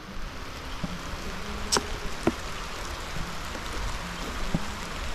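Rain falls steadily on a bitter gourd field during harvest, a soft, continuous patter with a few sharper drops or taps standing out now and then, heard alone without talk.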